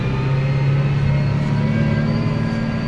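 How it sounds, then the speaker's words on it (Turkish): Tractor engine straining under load while climbing, a steady loud low drone with a strong rumbling tone held throughout, no voices. "Şu an ucu ucuna gidiyor traktör."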